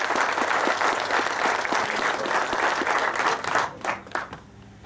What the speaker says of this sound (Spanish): Fuerte el aplauso de los presentes.